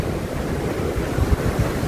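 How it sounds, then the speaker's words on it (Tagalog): Ocean surf rumbles close by, waves washing in with a low churning roar mixed with wind buffeting the microphone. "tinignan ko lang yung kung malaki ang alon"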